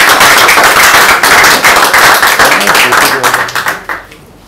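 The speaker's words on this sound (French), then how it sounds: "Je demanderai un applaudissement pour notre cher." Loud, dense audience applause for a professor at the close of a seminar, sharp overlapping claps that hold steady then thin out and fade near the end.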